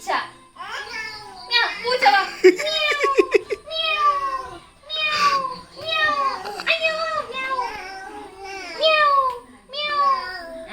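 At a mimicry class, a voice imitates a cat with a string of wavering, rising-and-falling meows, repeated close up, while other voices chatter in the background.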